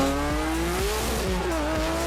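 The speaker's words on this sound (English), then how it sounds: "Full throttle, full." A Nissan Skyline R32 GT-R runs at full throttle on a closed racetrack. The loud, close engine roar climbs steadily, with brief dips at each quick gear change.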